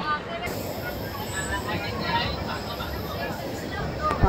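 The Visakhapatnam–Kirandul passenger train runs along a hill line, producing a steady rumble and rattle of the carriages heard from inside the coach, with voices murmuring underneath.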